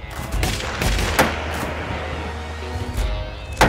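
Rifle firing a 140 grain Berger VLD Hunter round: several sharp, loud cracks with booming low tails, close and standing alone without talk.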